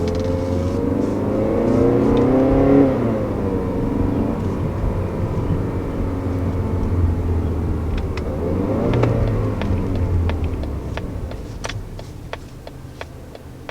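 A 2019 Mazda 3 sedan engine revs in manual shifting mode, climbing and falling in pitch as it pulls through gears, heard from inside the cabin with steady road noise.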